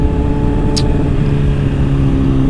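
A Honda CBR600RR sport bike with a HOTBODIES Racing Stinger slip-on exhaust holds a loud, steady engine note up close, with a short sharp click partway through.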